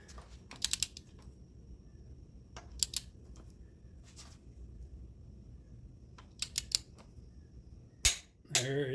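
A torque wrench on an oil pump bolt of an L48 small block Chevy gives sharp metallic clicks in small clusters between quiet stretches, close and crisp, with a louder clunk near the end.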